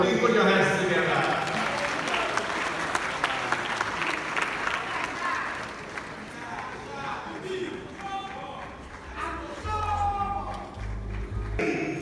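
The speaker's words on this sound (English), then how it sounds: "please put your hands together" Applause from the crowd at the launch of Ghana's smart schools programme with the president, a steady dense clatter of hands running the whole stretch, with voices and speech mixed in and a low rumble near the end.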